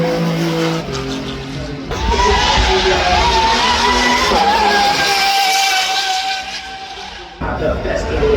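A 6.3-litre naturally aspirated V12 car at the Goodwood Festival of Speed hill climb, a loud high-pitched engine howl rising and sustaining as it passes close by, with crowd and ambient noise beneath.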